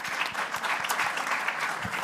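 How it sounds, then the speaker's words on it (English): A crowd at a digital banking summit claps loudly and continuously for a panel, dense applause holding steady from start to finish. "let's give the panelists a round of applause"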